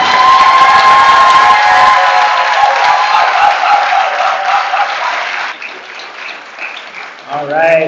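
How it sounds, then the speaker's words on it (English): Audience applause and cheering for graduating seniors at a commencement ceremony, a loud sustained burst that tapers off toward the end, with a whistle-like tone at the start. "let's give our seniors a warm round of applause"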